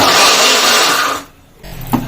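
A kitchen mixer grinder whirs loudly as it blends tomato chutney in its jar, then cuts off after about a second, leaving a short quiet gap and a small clatter.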